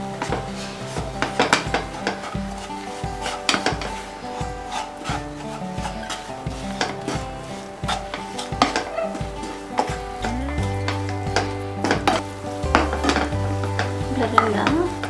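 Milk powder coconut ladoo mixture with icing sugar being stirred and rubbed in a bowl, with repeated scraping and knocking strokes at an uneven rhythm, close and moderately loud, with no talking.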